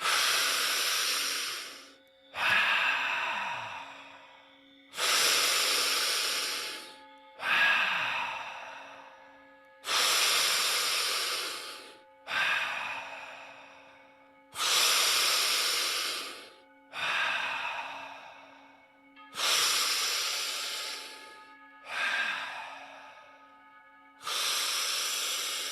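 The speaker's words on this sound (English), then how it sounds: "Deep inhale and release." Deep breathwork breathing, a steady rhythm of strong inhales and long hissing exhales repeating about a dozen times, close to the microphone with a faint steady hum underneath.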